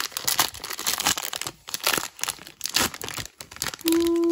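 A trading card pack is torn open by hand with dense, close crinkling and ripping of foil wrapper over about four seconds, ending in a brief steady tone.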